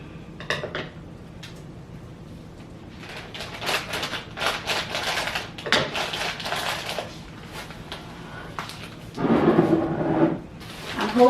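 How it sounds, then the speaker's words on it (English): Rustling plastic crinkles and short sharp scissor snips come in bursts as a bag of fruit is cut open, with a louder crinkling near the end, close up and without talk. "just gonna open this bag with a scissors"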